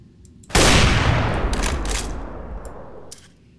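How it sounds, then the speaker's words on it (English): A single heavy sniper rifle shot in Garry's Mod bursts out loud at once, followed by a long rumbling decay and echo that fades over several seconds, with a few faint clicks nearby. "By this time, I do sniper practice."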